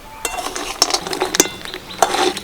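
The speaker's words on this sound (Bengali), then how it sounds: "হালকা করে এইভাবে নাড়াচাড়া করবো" Sugar and batasa melting in a wok with raw mango over low heat, stirred with a spoon, giving close, irregular scraping and clinking of metal against the pan with a faint sizzle underneath.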